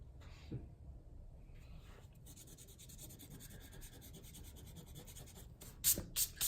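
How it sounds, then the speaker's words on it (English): Soft rubbing of an eraser over pencil lines on watercolour paper, a faint steady scrubbing with a few louder scratchy strokes near the end. "I try to erase just so you can get that furry texture coming out"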